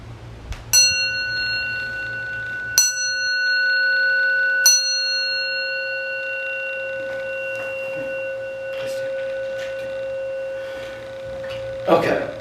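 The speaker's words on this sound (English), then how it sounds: "Bell 3 times." A bell rung three times in a quiet setting during a Zen talk, each strike a clear metallic tone that rings out and slowly decays, spaced a couple of seconds apart, with faint knocks afterward.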